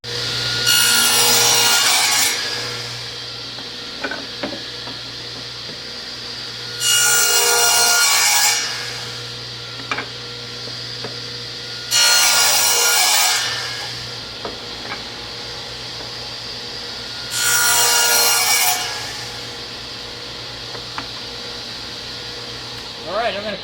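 Plywood for a pallet-wood dog bed is cut with a saw in four separate bursts of a few seconds each, loud and close, with quieter shop hum and small clunks between the cuts.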